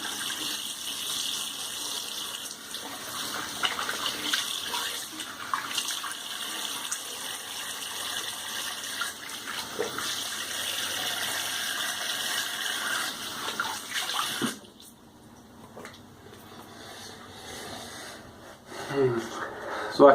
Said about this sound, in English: Here, let me rinse real quick,